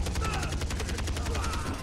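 Rapid gunfire from a PS3 shooter game, a dense fusillade of repeated shots in quick regular bursts, loud and continuous throughout.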